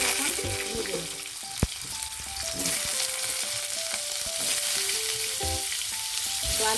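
Potatoes frying in hot oil in a wok give a steady, fairly loud sizzle and crackle throughout, with one sharp clack partway through and faint tones underneath.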